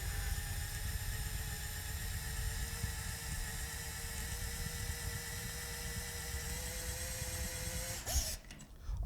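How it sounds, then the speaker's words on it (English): A power drill bores into a cammed-out, stripped Phillips screw head, a steady whining motor hum held for about eight seconds before it stops with a brief clatter of handling noise. "you want to make sure you drill down deep enough to give the extractor the chance to bite."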